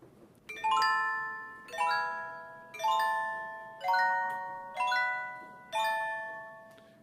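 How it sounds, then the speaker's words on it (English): Six bright mallet-struck chords on a full-size xylophone ring out in a slow, even rhythm, each chord of bar tones decaying before the next, with no talking. "really beautiful xylophone that's actually a full-size instrument."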